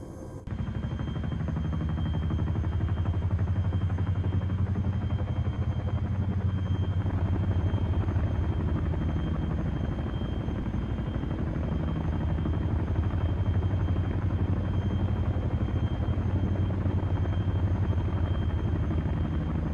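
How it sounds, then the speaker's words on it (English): A Chinook helicopter lifts off and flies at an air assault school, its rotors producing a loud, continuous thudding roar close by. The roar runs unbroken with no speech. "1-2 Chinook lifting from Mike 3 Hilo Park."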